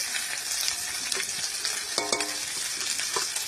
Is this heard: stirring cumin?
yes